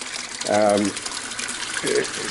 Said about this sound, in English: the reason I've got the PVC on the ends of the outlets is just to stop the water making a noise